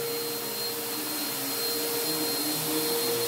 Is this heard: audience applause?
no